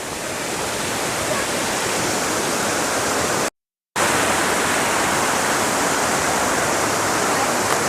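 Creek water at Battle Creek Falls rushes in a steady, loud, broadband roar that briefly cuts to silence midway before resuming at full strength.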